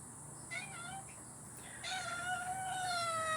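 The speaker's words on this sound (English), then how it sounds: "What's up, kitten?" A kitten meows several times nearby, drawn-out cries with short pauses between them, faint against a quiet background with no one talking.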